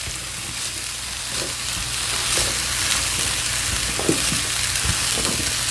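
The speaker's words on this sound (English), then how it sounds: "Now I'm gonna add the fire roasted tomatoes" Fire roasted tomatoes go into a hot skillet for a large Southwest dish, and a steady, loud sizzle and frying hiss runs throughout, with occasional soft stirring clicks and pops.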